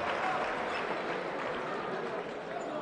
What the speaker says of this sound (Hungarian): Nagy taps közepette.